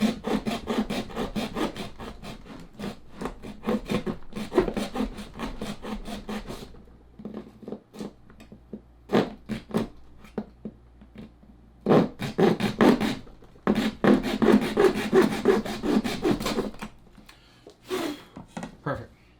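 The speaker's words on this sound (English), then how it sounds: "I did get a little hacksaw. I'm just gonna cut straight down through this," A small hand hacksaw cuts straight down through material while fitting a Land-Surf Ranger, with bursts of steady back-and-forth rasping strokes separated by short pauses, close and fairly loud, with no talking.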